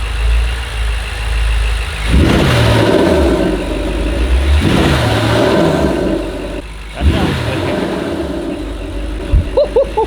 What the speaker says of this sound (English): The car just tends to make the intake whoosh, if you will, a lot more when the car is in drive or if you brake boost.